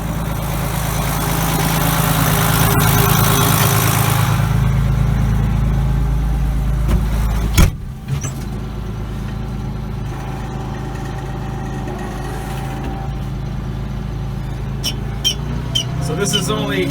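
A tractor running a 540 PTO fertilizer spreader from its 1000 PTO, heard close as a steady loud engine drone, then a sharp clunk as the drive engages, followed by a lower, quieter mechanical whir of the spinning spreader.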